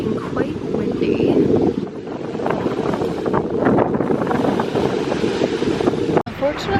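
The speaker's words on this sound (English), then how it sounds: "It's looking quite windy." Strong wind buffets the microphone at a beach in a steady, loud roar, with a voice talking over it.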